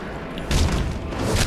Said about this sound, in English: Oh, let's try explosion with that